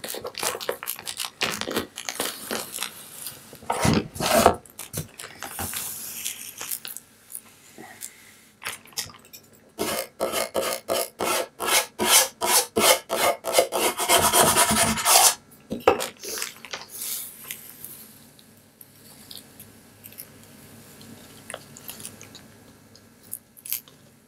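Adhesive craft vinyl being peeled off a Cricut-made Easter sign gives close, crackly rasping bursts in spells, separated by quiet pauses and softer handling noises.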